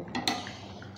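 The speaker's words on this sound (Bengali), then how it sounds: "এখন ভেজে রাখা মাছগুলো এখানে আমি একে একে দিয়ে দেব।" Fried rohu fish pieces dropped one by one into a metal cooking pan, giving a few brief clinks and taps over a faint background.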